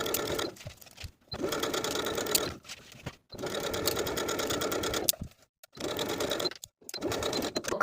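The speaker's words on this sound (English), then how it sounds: "Now we can sew inside that outer crease of the bias tape all the way around each of the armholes." Sewing machine stitching bias tape around the armholes of a peplum top, loud and close in three long runs broken by brief stops.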